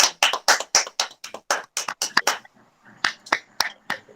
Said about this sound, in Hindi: एक बार जोरदार तालियों से हम मनीषा का स्वागत करते हैं